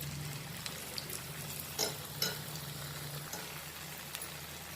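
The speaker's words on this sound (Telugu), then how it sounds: "ఈ బెండకాయలను శనగపిండిలో ముంచిన బెండకాయలను ఇలా బజ్జీలాగా వేయించుకోవాలి ఆయిల్లో." Okra dipped in gram flour batter deep-frying in oil as bajji: a faint, steady bubbling sizzle throughout, with a couple of soft clinks and stirring touches.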